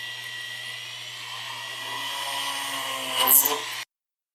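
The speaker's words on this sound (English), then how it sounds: "Just drill some holes." A steady high-pitched drill whine runs continuously with a low hum beneath, briefly rising into a sharper screech near the end before cutting off, as holes are drilled in a wooden finial.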